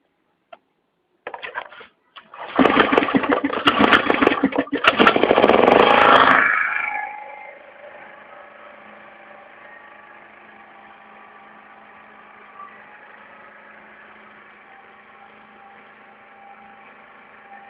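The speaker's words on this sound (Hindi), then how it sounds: "रस्सी वाला जनरेटर तो उसकी रस्सी खींचेंगे और आपका जनरेटर स्टार्ट हो जाएगा" Generator engine starting: a few sharp clicks, then a loud burst of rough sputtering cranking for several seconds that settles into a steady, quieter idle hum running alone to the end.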